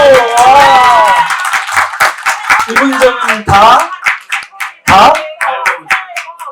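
Audience clapping at a live talk event breaks out beneath a speaking voice, rising and falling in bursts while the talk carries on over it.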